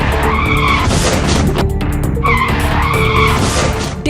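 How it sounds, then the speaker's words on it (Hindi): A speeding motorbike skids along a road just before a crash, giving a loud, sustained scraping tire screech with harsh rising and falling squeals that never let up, and no talking. "हवा से बातें कर रही बाइक फिसलती चली।"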